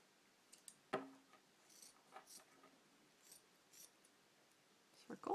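Small scissors snip felt circles for the eyes of a loom-knit ghost, making a few faint, scattered clicks and cuts close by in a quiet room.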